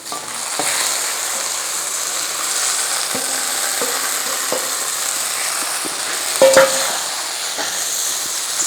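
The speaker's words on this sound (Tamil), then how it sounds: "இப்போ நம்ம கரைச்சி வச்ச ரத்தத்தை இதில் சேர்த்துக்கலாம்." Goat blood frying in a pan with sautéed onions, a steady sizzle with occasional scraping and stirring clatters from a utensil against the pan.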